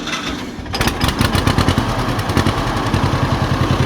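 A Case '50' tractor engine, a little slow on one cylinder, cranks and catches after half a second, then runs loud and close with a fast, uneven thumping rhythm.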